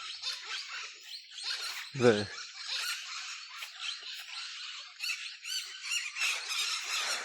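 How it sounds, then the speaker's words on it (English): Wild parrots calling in the Amazon rainforest of Ecuador in the morning, a faint, continuous chorus of distant squawks and chirps, with a brief spoken word partway through. "Those are those are parrots."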